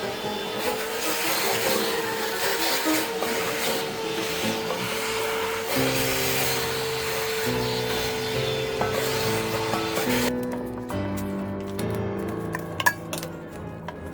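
Rebuilt Electrolux central vacuum drawing up small metal shavings, a steady whooshing motor drone with shifting pitch and scattered rattles and clicks as debris is sucked in, near and continuous; the drone cuts out abruptly near the end.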